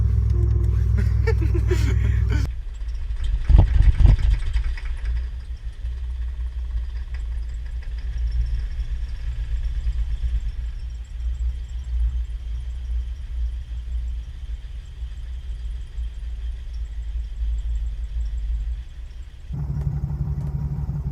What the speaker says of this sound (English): This car makes a lot of weird noises, man.